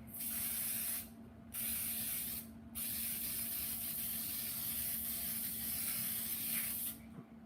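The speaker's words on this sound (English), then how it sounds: "Let's use a little spray on this one." Repeated hissing bursts of an aerosol spray, three long sprays separated by short pauses, close and steady, with no talking.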